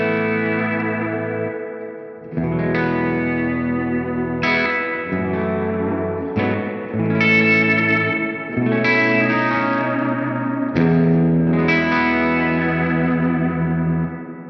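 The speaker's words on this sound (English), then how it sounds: "So next along we've got this reverb circuit, which sounds really, really lush" Electric guitar through a Hamstead Artist 60+RT amp with the reverb circuit turned full, a series of strummed chords ringing out in lush, washy tails that blur into one another, loud and clean with no talking.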